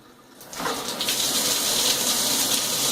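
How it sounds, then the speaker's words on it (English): Water bursts on at about half a second from an Aqua Elegante six-function high-pressure luxury shower head, then runs as a steady, loud, close hiss and splash with no talking. "I'm going to go ahead and turn on the water so y'all can actually see it in action."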